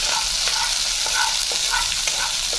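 Chopped green chillies sizzle and get stirred in a hot pan for beetroot pachadi, a loud steady frying hiss with periodic scraping strokes of the spoon.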